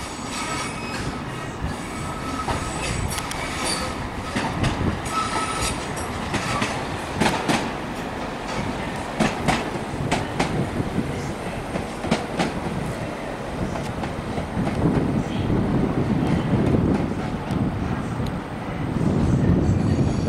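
A CAF-built Class 197 passenger train runs along the line, heard from on board with a steady rumble, rhythmic wheel clicks and occasional high squeals that swell louder toward the end, with no talking.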